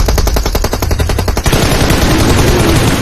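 Rapid automatic gunfire in a video game's King Kong mode, a fast burst of loud shots for about a second and a half, then a dense sustained roar of firing and explosions with no talk.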